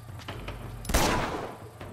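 Gunfire in the Uncharted 2 video game, a short burst of shots around the middle of the clip, loud and close, over a steady low game background.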